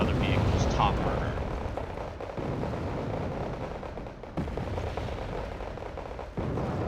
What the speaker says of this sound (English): There's, you know, a lot of fire coming in from the MAR 290s.